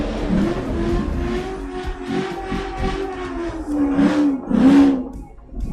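A drag racing car warms up its tyres at a drag racing final, engine roaring loud and close with rising and falling revs and two strong surges near the end.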